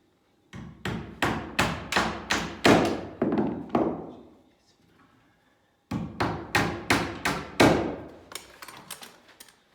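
Two-inch nails are hammered through metal clips into a wooden stud for a pocket door kit: two quick bursts of sharp, ringing hammer blows, several strikes each, separated by a short pause, close and loud.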